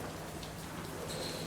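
Heavy rain pours down steadily at an outdoor tennis ranch, a dense, continuous hiss of drops hitting surfaces that stays close and even with no talking.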